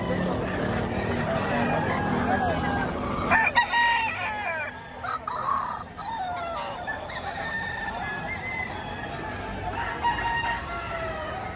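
Roosters and stags crow at a busy holiday livestock market, several calls rising over a constant crowd murmur, with people talking nearby.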